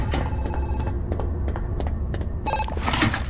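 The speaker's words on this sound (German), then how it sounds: "Oh, Telefon." Telephone ringing in the horror video game Zoochosis, a repeated electronic ring in short bursts over a low background hum, loud and close with no talk.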